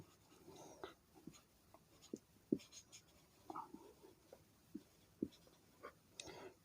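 A pen or chalk writes out the distance formula in a quiet room, making soft, irregular scratches and taps with short pauses between strokes.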